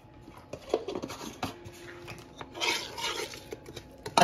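Black pepper, salt and spices being mixed by hand into meat for chicken tikka and mutton seekh kabab, giving soft close rubbing and squishing with a few light clinks of a bowl, quiet and uneven throughout.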